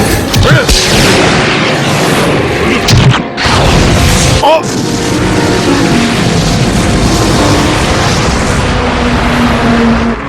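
A loud, dense burst of booming explosion noise with crashing impacts, sustained and roaring throughout, with a brief dip partway before the rumble resumes.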